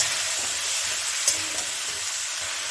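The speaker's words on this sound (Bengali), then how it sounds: "এই ডালটাও একসঙ্গে আমি এটার সঙ্গে ভেজে নিলাম" Soaked masoor dal fries with drumstick pieces in a pan, making a steady, even sizzle with a few soft stirring knocks and no talk.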